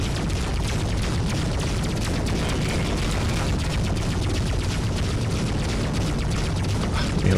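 Spaceship cannon fire and explosions in the space combat game Freelancer make a dense, loud, continuous barrage of rapid shots and booms that never lets up, with no talking.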